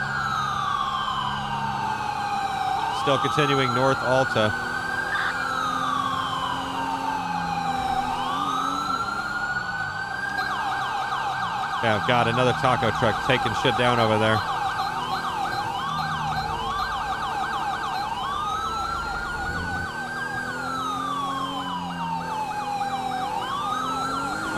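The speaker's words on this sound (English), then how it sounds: "I hear a siren" A police siren from GTA V with the LSPDFR mod wails steadily for the whole stretch, loud and near, switching between long sweeping tones and rapid yelps, with a driving engine underneath and a voice talking over it.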